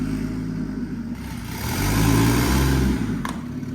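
A lowered, turbocharged Lexus IS300 fitted with a CT20 turbo pulls away on its first drive, the engine droning steadily and then swelling louder as it revs before easing back.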